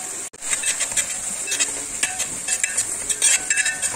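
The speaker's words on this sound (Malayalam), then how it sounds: "ഇവിടെ ഇങ്ങനെ ഇതാ തിളച്ചുകൊണ്ടിരിക്കുന്നത്." A curry with chili and turmeric powder bubbling and sizzling in a pan, a close, steady crackle with scattered sharper pops and a stirring knock near the start.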